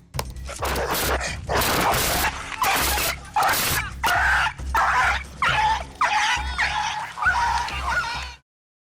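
A dog barks, yips and snarls in rapid, loud bursts while attacking a police officer. The outbursts come close together with short gaps between them.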